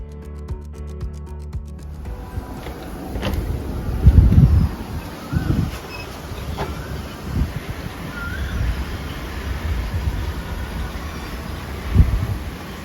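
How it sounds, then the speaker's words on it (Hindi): Strong gusty wind from Cyclone Biparjoy buffets the microphone with low rumbling surges and rustling, peaking in a few louder bursts over a steady roar outdoors at home. "ये देख रहे हो आप कितनी ज़्यादा तेज़ हवा है"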